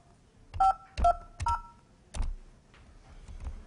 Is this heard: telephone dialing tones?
yes